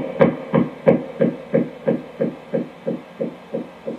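Electric guitar volume swells run through delay pedals, a steady pulse of soft, rounded repeats about three per second, with a low hum beneath and no attack on the notes.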